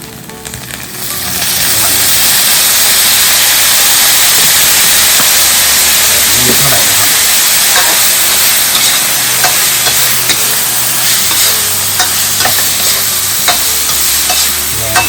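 Insects frying in oil in a pan: a loud, dense, steady sizzle that rises within the first couple of seconds and holds, with faint scattered pops and scrapes.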